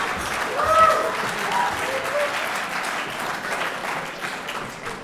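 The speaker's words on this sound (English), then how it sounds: "I noticed the men clapped more than the women on that one." Audience at a hall of fame gala dinner claps in a sustained round of applause, swelling early and then holding steady at moderate loudness, with a few scattered voices faintly audible.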